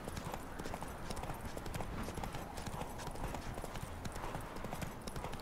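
Dense, steady clip-clop of hooves in the video game The Witcher 3, as if several horses walk together, continuing without pause at a constant level.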